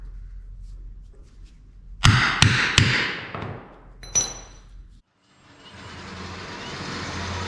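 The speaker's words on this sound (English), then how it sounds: "We're going to punch a hole through the rubber to make it easier for our bolts to clear." A hole punch is driven through rubber on a VW Beetle chassis in a workshop, giving several loud sharp hammer-like strikes in quick succession, a pause, then another pair of hits before the sound drops away to faint background noise.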